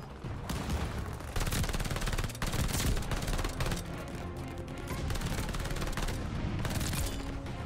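A PPSH submachine gun fires in long, rapid automatic bursts in Call of Duty Vanguard, a dense clattering roar with other gunfire mixed in and a faint voice underneath.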